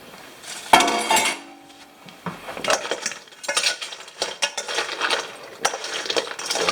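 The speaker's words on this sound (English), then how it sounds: "So I'm gonna now put the eggs over the crab. Now we gotta mix it up real well." Eggs being mixed over Dungeness crab in a pan, with scraping and clinking of a utensil against cookware in irregular bursts, close and moderately loud, with no talking.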